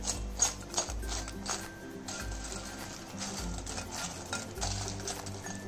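Fried idli pieces are tossed with pepper powder and salt in a pan, heard as a series of scraping, rattling stirs and metal clinks in uneven bursts, close and fairly soft, with no voices.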